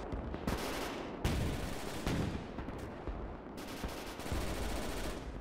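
MG42 machine gun in the Gates of Hell war game, firing several sustained loud bursts of rapid automatic fire with brief gaps between them, close and dense, with no talking.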